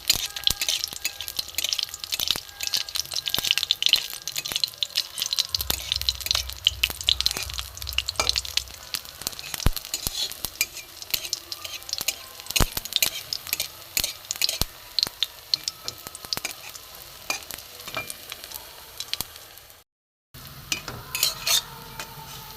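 Pitha frying in a little oil over a lowered gas flame gives a steady, close sizzle with light crackles and occasional spatula or utensil clinks, running with no speech.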